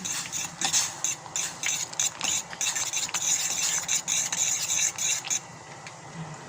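A utensil beats and stirs egg into a pot of Knorr crab and corn soup, giving a close, rapid, rhythmic clicking and scraping that runs for about five seconds and then stops.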